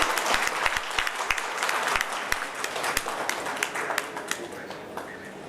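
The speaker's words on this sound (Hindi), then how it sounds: "जोरदार तालियां।" Audience applause at a Chhattisgarh Tourism Board event: steady, dense clapping from a crowd runs the whole time, with sharper individual claps standing out now and then.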